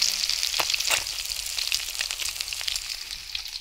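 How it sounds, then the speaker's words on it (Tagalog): Fish frying in a pan, a steady close sizzle with crackling pops, heard on its own with no voices. "Prito din ako ng isda"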